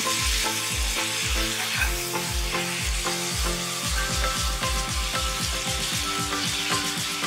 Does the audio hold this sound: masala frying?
yes